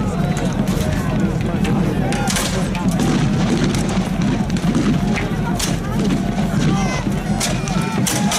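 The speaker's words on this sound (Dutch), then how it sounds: "Ondertussen wordt vanaf de batterijen gevuurd met de grote zware kanonnen." Heavy cannons fire from artillery batteries during a battle reenactment at the Siege of Grolle, with dull booms scattered through a constant rumble of crowd noise, running feet and someone talking over everything.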